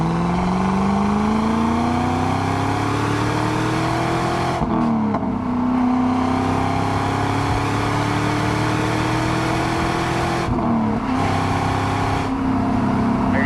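A stock-exhaust 2002 Pontiac WS6 with an LS1 engine and 6-speed gearbox drives along, its steady engine drone climbing in pitch through each gear, then dropping at two shifts before building again, with no talking.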